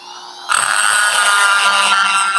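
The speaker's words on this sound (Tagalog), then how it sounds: "Grinder." Grinder cutting metal while a QA8H break-barrel air rifle is repaired, a loud, close, high whine that starts abruptly after a quieter motor hum and holds steady.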